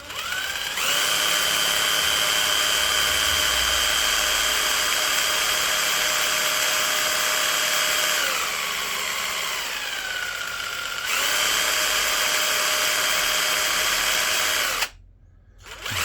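A Honda GL1000 Goldwing motorcycle engine is spun over by a power driver, producing a loud, steady mechanical whine. The whine eases briefly midway, picks up again, then cuts off sharply near the end.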